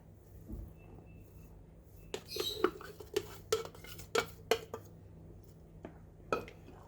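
Yeast being mixed into cinnamon roll dough in a bowl, a run of sharp clinks and taps of a utensil against the bowl in an irregular rhythm, fairly close and moderately loud over a quiet hum.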